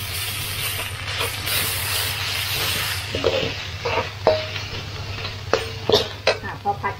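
Red curry paste for a spicy red curry with redtail catfish is stir-fried in a pan, giving a steady low sizzle. Scraping and clinking of a utensil against the pan grows louder and more frequent toward the end.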